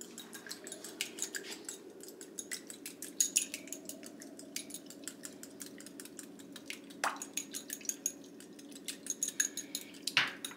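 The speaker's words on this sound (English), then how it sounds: "I'm going to take my little egg and I'm going to beat it." An egg beaten in a mug for a keto mug cake: quick, rapid clinking taps of a utensil against the mug's sides, close and continuous with a few sharper knocks.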